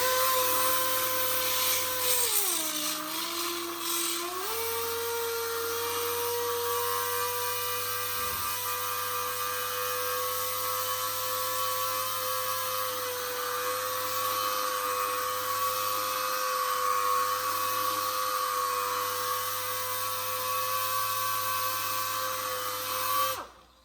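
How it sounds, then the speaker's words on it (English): A DA sander with 36 grit paper grinds on the steel head of a body hammer, a steady high whine held nearly constant for over twenty seconds, dipping once in pitch under load early on, with no talk. "And then I have 36 grit on my DA, and I'm going to hit that head of the body hammer"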